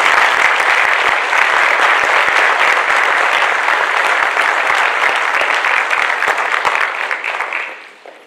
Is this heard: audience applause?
yes